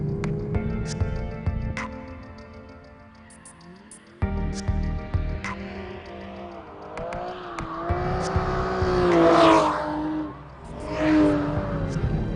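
A sports car engine revs hard from about 3,000 all the way to 7,000 RPM, its rising harmonic whine climbing and dipping through repeated loud pulls with a throaty roar.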